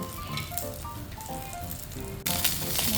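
Eggplant and boiled okra drop into oil that is not yet very hot and sizzle softly, with light crackling and popping under faint tonal background sounds. A louder, brighter burst of frying begins partway through.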